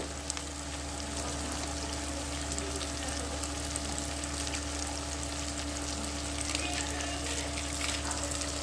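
Kashmiri chili frying in a pan for shahi paneer, a steady, even sizzle with a low background hum and no talking.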